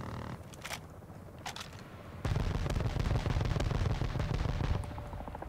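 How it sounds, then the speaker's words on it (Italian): A grenade goes off in Call of Duty Modern Warfare 2 gameplay, a sudden heavy blast that jumps out after scattered gunfire and rumbles on for a couple of seconds. "Tiro una granata!"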